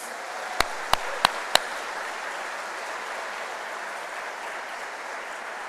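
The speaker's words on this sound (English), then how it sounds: "let's give them a big round of applause" Audience applause for the program team at an opening ceremony for an international MBA, with a few sharp, close claps at the start, then a steady, even wash of clapping from a larger crowd further off.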